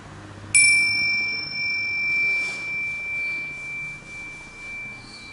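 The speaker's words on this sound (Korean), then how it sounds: "종소리와 함께 시작하겠습니다." A single meditation bell is struck once, its clear metallic ring sustaining and slowly fading over several seconds in a quiet room.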